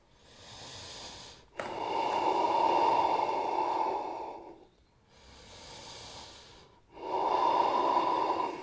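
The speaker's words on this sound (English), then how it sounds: "3 more deep Ujjayi breaths" Deep Ujjayi yoga breathing held in a humble warrior pose: two long, close, hissing breaths, each several seconds, with a brief quiet gap between them.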